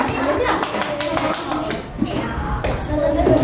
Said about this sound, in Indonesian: Berikan tepuk tangan pada kelompok 1 ya.